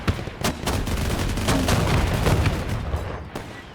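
Rapid gunfire and artillery in Men of War 2 during a defensive battle, dense overlapping shots and booms rattling continuously, loud and close with a few sharper cracks standing out.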